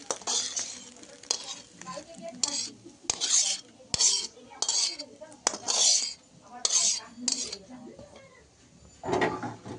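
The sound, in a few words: fried egg moved from pan to plate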